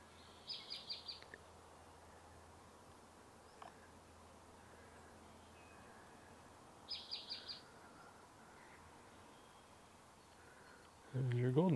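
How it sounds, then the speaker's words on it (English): Savannah sparrow song from a May birding walk at Sargeant Bay Provincial Park: two short, high buzzy trills a few seconds apart, faint at a distance over quiet outdoor ambience, with a brief louder noise at the very end. "I see that Merlin ID is also hearing the Savannah sparrow."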